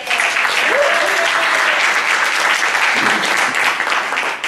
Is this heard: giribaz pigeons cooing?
no